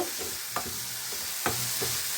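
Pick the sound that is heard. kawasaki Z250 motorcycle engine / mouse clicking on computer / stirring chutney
stirring chutney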